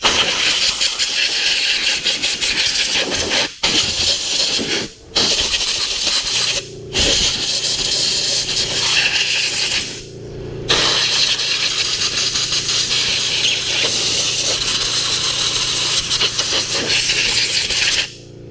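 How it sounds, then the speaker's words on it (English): Compressed air blasts in loud, sustained hissing bursts over a Honda FG110 mini tiller engine caked with dirt, broken by several short pauses, close to the nozzle. "so I'm going to blow it off with a little air"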